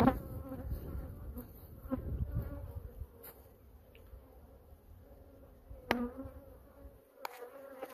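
A steady, low insect buzz of many honey bees on moved pallets hums throughout, with a few sharp clicks and knocks breaking through near the end.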